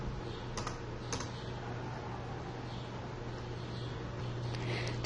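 Computer keyboard being typed on quietly, with a few distinct key taps over a steady low hum and room noise, no voices.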